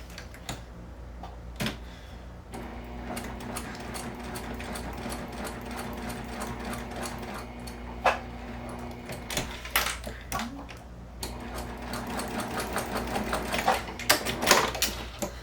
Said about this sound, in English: Then what we're going to do is baste your corners.